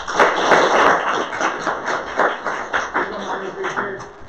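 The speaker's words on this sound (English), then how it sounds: "You can stand up while we applaud." A lecture-hall audience applauds a student group after their data science presentation: a burst of dense hand clapping with thumps and taps, gradually thinning and fading, with a voice speaking over it.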